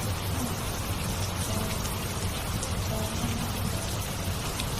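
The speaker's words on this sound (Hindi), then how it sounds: "रामू बाहर बारिश देखने चला जाता है।" Continuous steady rain falling outside, an even dense patter with no breaks, heard from indoors at moderate loudness.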